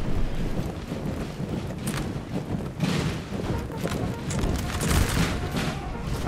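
Massed musket volley from line infantry in a Napoleon Total War multiplayer battle at Borodino, a dense crackling roar of many shots with booming undertones and wind-like rumble, sustained and loud throughout, with faint speech underneath.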